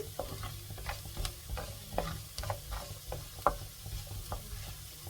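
Ginger being sautéed in oil for tomato thokku, a soft sizzle under repeated light scrapes and taps of a spoon stirring in the pan, close and fairly quiet, no talking.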